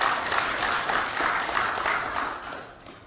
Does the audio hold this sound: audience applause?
yes